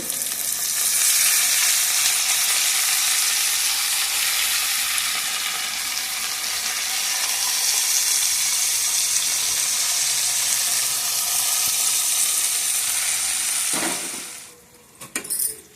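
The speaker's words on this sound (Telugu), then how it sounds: "ఇప్పుడు మెంతికూర వేస్తున్నానండి" Fenugreek leaves fry in a pan with browned onions for a fenugreek-potato fry, producing a loud, continuous sizzle that eases slightly midway before a few clattering knocks and a quick fade at the end.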